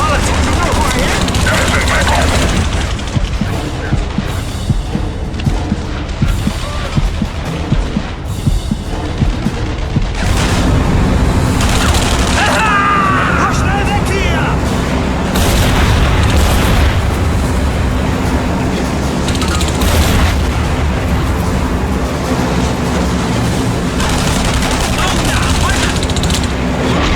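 Heavy gunfire and explosions from The Saboteur video game fill the scene, with rattling automatic bursts, single shots and booming blasts continuing loudly throughout while voices speak over the combat.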